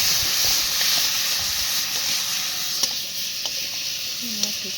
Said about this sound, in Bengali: সেই তেলেই দেখো একটা শুকনো লঙ্কা আর একটু গোটা জিরে ফোড়ন দিয়ে তারপরে কিন্তু কেটে রাখা আলুটা দিয়ে দেবো